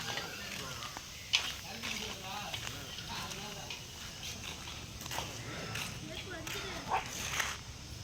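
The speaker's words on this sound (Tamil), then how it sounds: "பார்த்தீங்கன்னா எவ்வளோ நாய் கூப்பிட்டு வரான்னு" Several dogs in a neighbourhood street yip and bark in short bursts amid footsteps and nearby voices, with people talking throughout.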